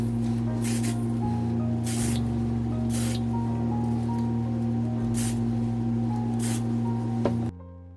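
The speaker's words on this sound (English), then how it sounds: "Gonna spray some heat protectant" Several short bursts of Amika The Shield heat protectant sprayed onto hair, each a brief airy hiss over a steady electrical hum, ending abruptly near the close.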